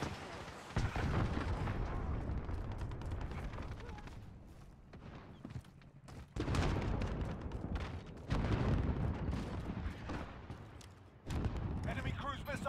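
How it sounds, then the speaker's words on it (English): Cruise missile launch and heavy explosions in Call of Duty: Modern Warfare, with loud rumbling booms and blasts rolling in waves, dense and close, and radio-style voices under the din. "Cruise missile away."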